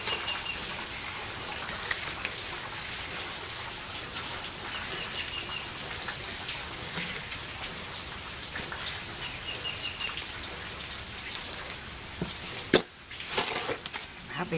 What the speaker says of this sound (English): A little rain ain't gonna hurt nobody,